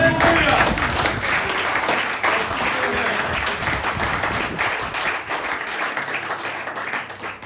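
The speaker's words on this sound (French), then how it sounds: "Acclamons encore très fort le Seigneur." Church congregation applauding loudly and steadily throughout, a dense wash of clapping with scattered cheers and voices mixed in.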